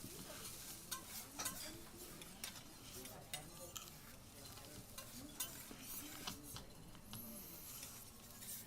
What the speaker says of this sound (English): You hear the onions frying?